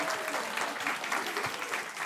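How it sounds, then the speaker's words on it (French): An audience claps for Clara at a French comedy dating show, a short burst of full, steady applause throughout, with faint voices underneath. "On va faire un tonnerre d'applaudissements pour Clara, s'il vous plaît"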